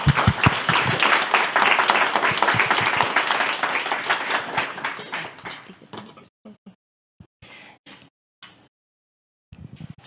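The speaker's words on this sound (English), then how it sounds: "Everybody give a round of applause to Debora." An audience at a ReactJS Girls tech meetup claps in a dense burst of applause that gradually thins out and fades into scattered, isolated claps and quiet room noise.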